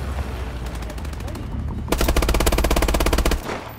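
Rapid automatic bursts from a BAL-27 Inferno elite assault rifle in Call of Duty: Advanced Warfare, a sustained loud stream of shots with a denser, heavier burst in the middle, close up.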